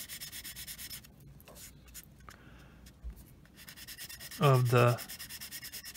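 Short rubbing strokes of sandpaper over filled putty along a scale model kit's panel line, close and soft, with a brief spoken phrase partway through.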